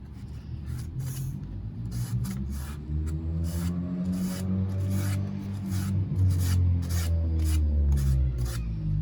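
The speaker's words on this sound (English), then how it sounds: "You know how to sand it?" Sandpaper rubs back and forth over a wooden rocking chair in quick repeated strokes, a close, rasping scratch set against a low background hum.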